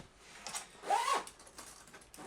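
Zippers on a ThinkTank Airport International v2.0 camera roller bag are pulled open in a couple of quick, close rasping strokes in a quiet room.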